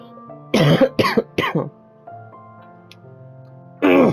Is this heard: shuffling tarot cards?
no